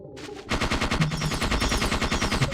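MP5 submachine gun firing in the PS1 game Parasite Eve II, a loud rapid burst of evenly spaced shots starting after a brief lead-in and continuing without a break.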